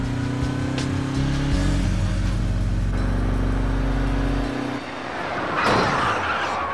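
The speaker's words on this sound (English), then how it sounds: "I couldn't see the truck passing me, but I sure could hear and feel it" An invisible stealth vehicle rumbles past in an animated action cartoon: a loud, deep low engine drone that holds for several seconds, then drops away and gives way to a brief whooshing burst as it goes by.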